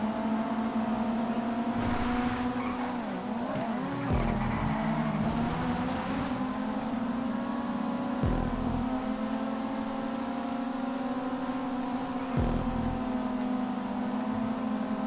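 Race cars in GTA 5 on a track around a castle, with a sustained engine drone holding steady pitch and a few brief bursts and shifts suggesting skids or impacts, mid-distance, no voices.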